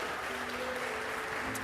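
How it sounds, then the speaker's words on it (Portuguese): Applause from a church congregation during an evening sermon, a steady wash of clapping hands that fills the space evenly from start to finish without voices on top. "Você pode aplaudir a Ele nessa noite."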